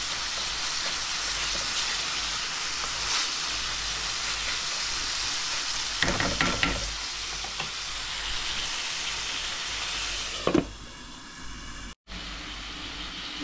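Flat beans and dried fish stir-frying in a pan for a bottle gourd and bean curry, a steady close sizzle with brief stirring scrapes partway through and a sharp knock near the end.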